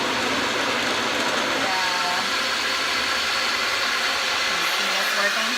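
A small blender runs steadily, mixing banana, eggs and liquid ingredients for grain-free chocolate chia seed muffin batter, with a loud continuous motor whir that shifts in pitch near the end.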